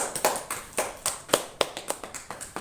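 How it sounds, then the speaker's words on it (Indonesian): Students in a chemistry classroom applaud a classmate with a short round of brisk, uneven claps, close and clear with no talk over it. "Jadi beri aplaus pada Armianti"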